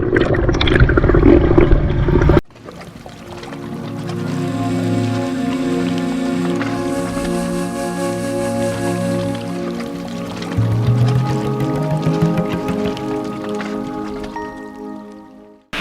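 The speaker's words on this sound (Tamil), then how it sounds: "இந்த ஏரியாவில் உள்ளே வந்தோடனே வந்து ஒரு சூப்பரான வாட்டர் ஃபால்ஸ் இருக்குங்க" Artificial waterfall at a water theme park in Erode, giving a steady, loud rush of falling water that runs without a break and swells slightly toward the end, after a brief burst of louder noise at the start.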